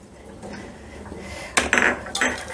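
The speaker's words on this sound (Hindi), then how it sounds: "प्याज की पकौड़ी के लिए प्याज डाल देंगे।" Sliced onions dropped into a bowl for onion pakoras, a close rustle followed by a few quick clattering knocks against the dish, brief and unaccompanied by talk.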